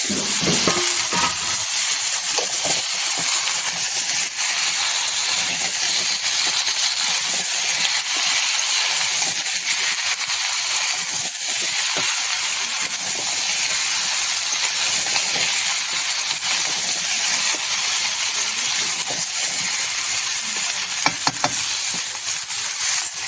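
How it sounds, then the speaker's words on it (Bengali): Vegetables hit a pan of cooked spice paste seasoned with salt and turmeric, giving a loud, steady, close sizzle and hiss that carries on unbroken throughout, with no talking. "মশলাটা আমার কষানো হয়ে গেছে, এবার আমি সবজিগুলো দিয়ে দেবো।"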